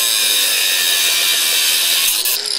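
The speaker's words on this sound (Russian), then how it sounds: "В дело пошла болгарка." Angle grinder cutting through metal parking space blockers in a residential courtyard, a loud, continuous high-pitched grinding whine up close that shifts slightly near the end.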